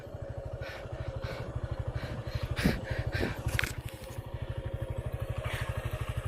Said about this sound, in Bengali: স্টার্ট হচ্ছে বাইক